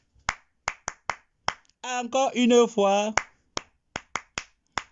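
A handful of single, sharp hand claps spaced about half a second apart, coming in a short run, pausing while someone speaks, then resuming in a similar spaced-out pattern.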